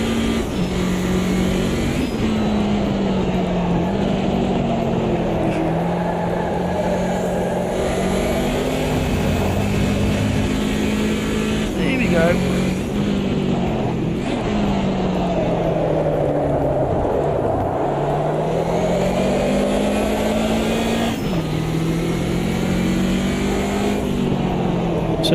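A race car engine drones steadily in third gear in Assetto Corsa EVO, the pitch rising and dipping as the throttle is held and eased. The engine stays loud and close throughout, with brief shifts in tone.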